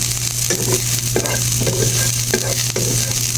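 Mixed vegetables, Filipino ginisang gulay, are sautéed and stirred in a hot pan. A loud, steady sizzle runs throughout, broken by scraping stirring strokes.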